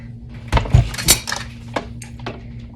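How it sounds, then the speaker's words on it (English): A Stampin' Cut and Emboss machine is picked up and set down in a card-making session, giving a few close, loud clunks and knocks with light rattling, heard alone without talk. "And now let me grab my Stampin' Cut and Emboss machine."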